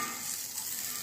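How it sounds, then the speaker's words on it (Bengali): Vegetable snacks fry in oil in a covered pan over low heat, giving a soft, even, continuous sizzle with no talking. "এরকম লো হিটে ঢেকে ঢেকে ভাজছি"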